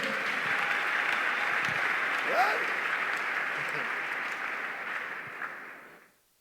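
A church congregation applauds together during a pastor's sermon, a dense, steady roar of clapping that holds evenly for about six seconds before cutting off abruptly.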